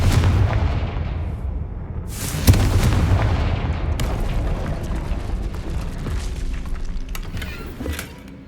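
In the Hogwarts Legacy video game, the Confringo spell blasts a barrier with a heavy explosive boom and a sharp crack, followed by rumbling debris and a decaying roar.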